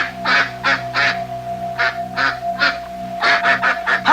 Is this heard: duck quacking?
yes